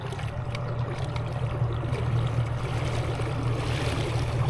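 A Garmin Force Current trolling motor drives a Bonafide PWR129 fishing kayak, giving a steady low hum and drone under continuous water wash, close and even throughout with no talking.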